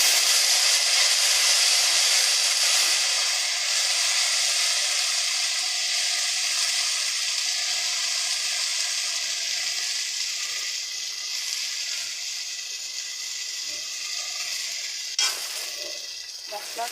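Cumin paste and chilli paste masala frying hard in a pan for a soybean curry, giving a loud, steady broadband sizzle that holds throughout and eases slightly near the end, with a brief stir or clatter late on.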